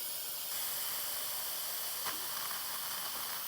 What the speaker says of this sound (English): So it's just getting out that steam.